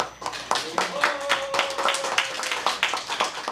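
Audience clapping for a busking singer at an outdoor charity performance, a scattered burst of hand claps with a sustained tone and some voices mixed underneath.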